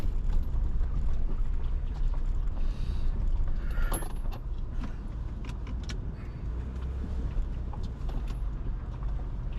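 A vehicle reverses into position at the Parpaillon tunnel on the Col de Parpaillon, giving a steady low engine rumble with occasional mechanical creaks and clunks, close and continuous with no talk.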